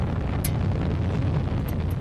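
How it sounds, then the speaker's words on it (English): A Proton-M launch vehicle lifting off, heard as a dense, continuous low rumbling roar that stays steady and loud throughout. "It's a very, very big launch vehicle."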